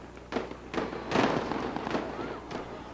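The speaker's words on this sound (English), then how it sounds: "a different kind of explosion echoed through the skies over Amritsar" Military bombardment over Amritsar during Operation Blue Star: repeated loud explosive bursts and crackling blasts rolling one after another, with faint voices underneath.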